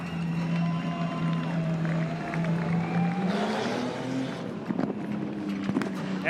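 Super street sedans racing at Cairns Speedway, engines droning and rising in pitch as cars pass along the back straight, with crowd noise and a faint announcer voice in the background.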